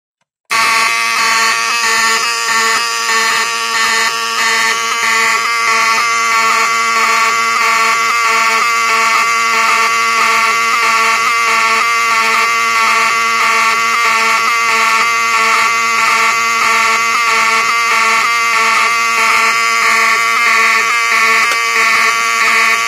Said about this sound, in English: activate the smoke detector, and that will cause the system to re-alarm and also set off the HALON alarm